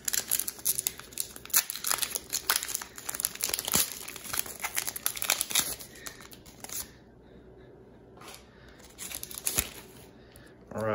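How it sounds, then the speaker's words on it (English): Crinkly foil wrapper of a Pokémon Rebel Clash booster pack being torn open and crumpled, close and loud in bursts of sharp crackling, then a quieter stretch before more rustling at the end. "Let's crack into our first Rillaboom pack"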